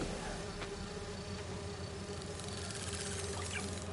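Bee wolves buzz in the Spider-Man 2 video game, a steady dense insect drone with faint fluttering, quiet and continuous with no talk.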